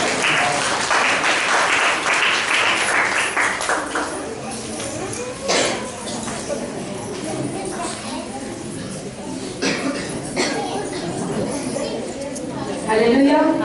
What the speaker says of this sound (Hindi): ताली बजाकर परमेश्वर के नाम की स्तुति करें